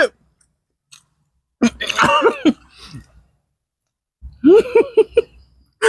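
A person chewing a mouthful of food during an eating challenge, bursts of close, wet chewing and throat sounds in two separate bouts with near silence between.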